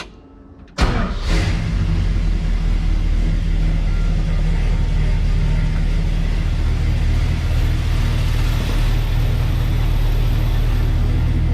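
A cold truck fitted with an Edelbrock 750 carburetor cranks briefly and fires, then settles into a loud, steady, deep idle close by, rumbling on evenly with no talk.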